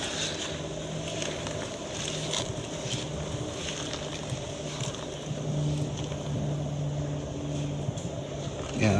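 A homemade sawmill runs with its drive belt turning directly on a tire beside the blade, producing a steady mechanical hum and whine with a low droning tone that holds throughout.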